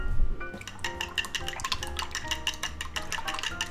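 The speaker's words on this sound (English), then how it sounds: "Now we just beat them up a little." Four eggs being beaten in a microwave-safe bowl, a fork or whisk clicking and scraping rapidly and steadily against the bowl, close and fairly loud with no talking.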